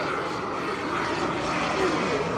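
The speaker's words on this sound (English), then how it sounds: "There's a jet. Turbine." A turbine-powered RC model jet at the Joe Nall RC event roars continuously, a broad steady engine rush heard at some distance over general outdoor ambience.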